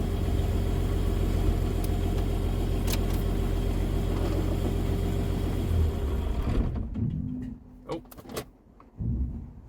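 A 2005 third-gen Cummins diesel pickup idles with a steady loud rumble, then shuts off, leaving quiet with a few faint clunks and rustles.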